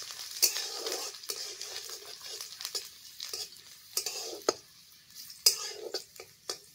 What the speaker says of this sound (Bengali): দিয়ে হালকা এটাকে ভেজে নেব।